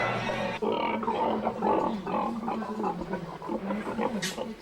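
Pigs in an open indoor pen without confining crates, where feed and water troughs sit on opposite sides, give a run of rough, close grunts. A voice speaks over part of the sound.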